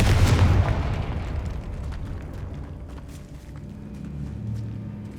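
A Confringo spell explosion in the video game Hogwarts Legacy: one loud, heavy boom at the start that fades into a long rumbling decay with scattered debris crackles.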